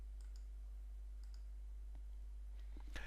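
A computer mouse clicks once, sharp and close, near the end while text is formatted in a Joomla 3 article editor, over a quiet room with a steady low electrical hum.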